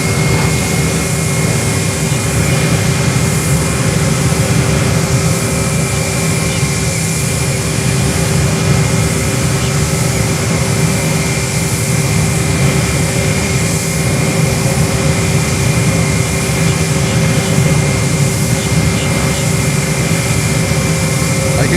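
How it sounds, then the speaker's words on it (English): A CRJ 200 jet airliner arrives at Fort Lauderdale airport, its engines giving a loud, steady roar with a constant whine that holds unbroken throughout, with no voices. "we have a CRJ 200 coming in from State Aviation"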